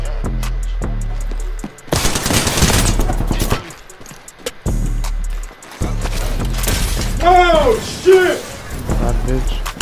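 Automatic gunfire rattles in the video game Apex Legends in several loud bursts with short gaps, and a player talks over the shooting at times.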